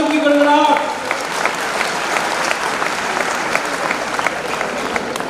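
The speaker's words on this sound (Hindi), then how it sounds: "संस्था प्रधान रंजना मिश्रा के लिए तालियों की गड़गड़ाहट।" A school audience applauds its head of institution at a student honours ceremony attended by a state governor. A brief voice opens, then a full, steady roar of crowd clapping continues to the end.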